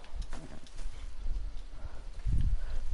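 Hooves of a wild, unsaddled horse in Red Dead Redemption 2 clop along at close range, a steady uneven rhythm with a heavier thud of movement near the end and no talk over it.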